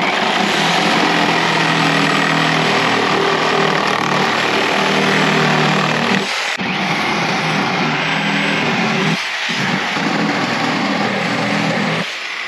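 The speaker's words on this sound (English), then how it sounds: "this is 3/4 inch stroke, 12 amp Milwaukee corded Sawzall. So make a few cuts with it" A Milwaukee 12 amp corded Sawzall reciprocating saw with a 3/4 inch stroke makes several cuts, a loud, dense buzzing roar broken by a few short gaps between cuts, with no one speaking.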